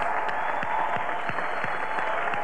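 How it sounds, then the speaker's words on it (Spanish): Audience applause for a band's musicians at a Christian music concert celebration, a steady wash of clapping from a large crowd with a faint sustained musical tone underneath. "quiero también pedirles un aplauso a mis músicos"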